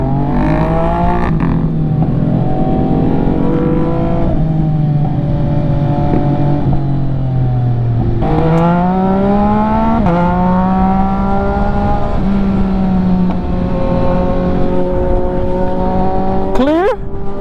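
MV Agusta motorcycles revving loudly and pulling away in a group, engine pitch rising and falling through gear changes, with sharp throttle blips near the end, continuous and close throughout.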